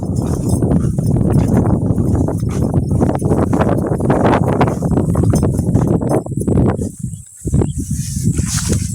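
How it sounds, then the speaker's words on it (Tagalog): Horses climbing out of water, hooves clopping and clattering rapidly and irregularly, loud and close, in a dense continuous stream that briefly dips near the end. "Ahon ng mga kabayo."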